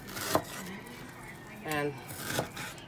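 Knife slicing through frozen boneless skinless chicken on a board, a few short scraping cuts and clinks spaced apart, quiet and close.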